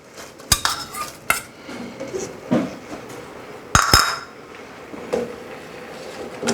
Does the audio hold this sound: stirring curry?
yes